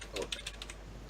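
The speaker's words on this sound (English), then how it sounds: "I'm just typing something else." Quick, light keystrokes tap on a computer keyboard in a series of irregular clicks, fairly faint and close, with no talk over them.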